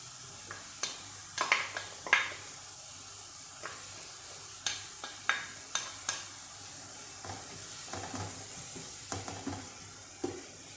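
Chermoula going into a sizzling tajine of whiting and peppers with tomatoes and onions. A soft frying hiss runs beneath a dozen or so sharp clinks and scrapes of a utensil stirring against the pot, spaced irregularly.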